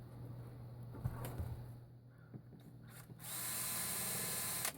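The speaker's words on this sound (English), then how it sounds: "And I'll go ahead and drill them." A low mechanical hum and a few clicks, then a steady, whirring drill runs continuously near the end, boring into wood.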